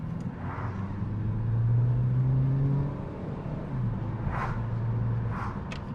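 A high-mileage Hyundai Veloster pulls hard on the highway, its engine note climbing and rumbling steadily, dipping at a gear shift and then rising again, close and loud with road whir underneath.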